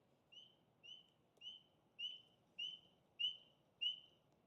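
A single spring peeper frog calls alone in a clear, steady series of seven sharp rising peeps spaced about half a second apart, close and distinct over faint low background noise.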